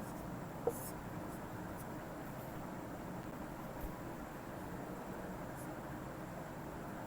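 A pen scratches steadily across paper while numbers are written out, a soft continuous rasp under a constant background hiss, with one faint tap near the start.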